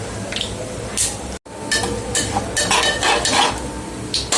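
Cumin, mustard seeds, chili powder and turmeric sizzle and crackle in hot oil, making a loud, close, continuous frying hiss with popping bursts and the scrape of stirring. One brief gap interrupts it partway through.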